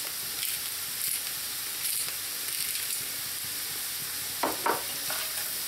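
Buckwheat soup ingredients with meat hiss softly in a pan, a steady sizzle with light spoon taps and a pair of clearer scrapes near the end.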